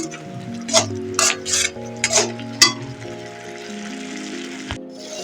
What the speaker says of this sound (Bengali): এইভাবে আমি ভেজে নেবো মশলা একটু জোরটা বাড়িয়ে দিলাম